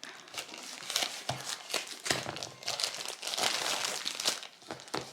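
Plastic wrapping on a diamond painting kit crinkles and tears in repeated bursts as the package is pulled open, close and fairly loud, with no talk.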